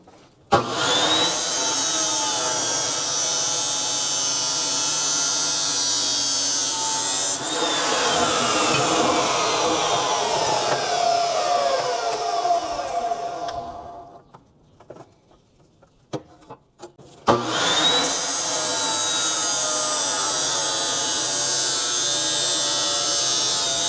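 A gas torch roars steadily while cutting metal for a homemade baler jack handle, a loud continuous hiss that briefly drops out near the end before resuming at full strength.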